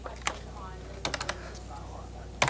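Fingers tap a computer keyboard in short, quiet bursts of a few keystrokes each, with soft pauses between and a faint low hum underneath.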